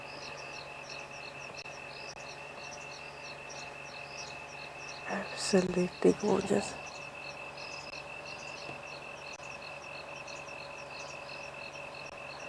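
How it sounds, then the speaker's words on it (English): At sunset on safari, a dense steady chorus of calling insects fills the air, with a few faint frog croaks in the background and a brief spoken remark partway through. "There are quite a few insects calling, the occasional frog."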